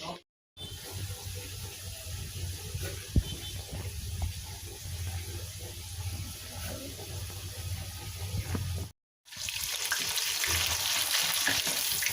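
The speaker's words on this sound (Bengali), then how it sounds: "কুমড়োর ভাজা পিঠে" Pumpkin fritters frying in oil in a home kitchen, a faint continuous sizzle with a sharp knock partway, two brief dropouts and louder hiss at the end.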